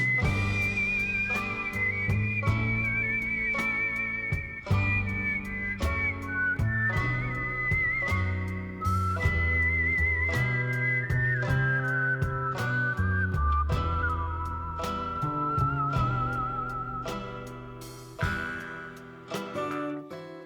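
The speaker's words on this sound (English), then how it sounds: "Love that you can hear that it's real people doing the whistling" Real human whistlers carry the melody of Final Fantasy VI game music, a steady sustained whistled tune over a full, continuous band with chords and bass, loud and close throughout.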